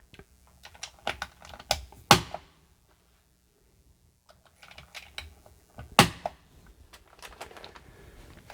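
Keycaps are pressed back onto a Commodore 64 keyboard in irregular bursts of sharp plastic clicks and snaps, with a few louder thunks and a quiet pause in the middle, close and without talking.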